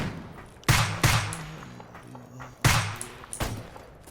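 Rifle fire from an AK in the video game Escape From Pripyat: three loud, sharp single shots, the second about half a second after the first and the third after a longer gap. A softer thud follows near the end.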